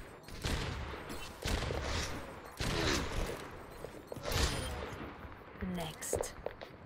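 Rapid bursts of video game gunfire repeat in dense volleys several times, close and loud, with a voice talking over parts of the shooting.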